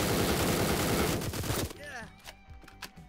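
Dense burst of gunfire from multiple weapons in the tactical shooter Door Kickers: Action Squad, a loud continuous fusillade that cuts off abruptly, followed by a few scattered single shots and clatter.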